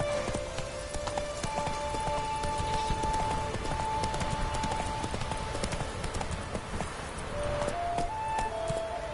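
Roach the horse galloping in The Witcher 3, a steady clip-clop of hooves running continuously over a rain-like wash of game ambience, with no talking.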